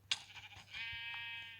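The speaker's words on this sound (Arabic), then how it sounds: "خروف" A Minecraft sheep bleats once: a short, wavering in-game baa after a few soft clicks, with no talking over it.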